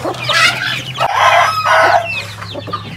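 A mother hen clucks loudly and close by, her chicks nearby, producing repeated throaty calls over about three seconds with a low steady hum underneath.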